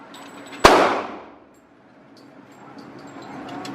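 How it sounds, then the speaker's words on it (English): A single loud, sharp blast from a 12 gauge shotgun fired at an outdoor gun range, with a brief decaying ring afterward and quiet ambience. "12 gauge shotty."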